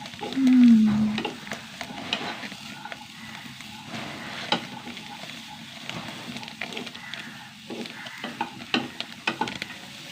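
Tamarind frying softly in a pan until its moisture cooks off, a low sizzle broken by scattered scrapes and taps of stirring, steady and close.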